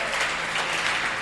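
A church congregation applauds in praise of the Lord, a dense, even wash of many hands clapping close and loud throughout, with no break.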